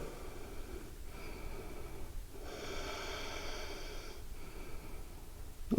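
Slow, deep breathing during a gentle vinyasa yoga flow, a few long airy inhales and exhales in a steady rhythm, soft and close with no speech over it.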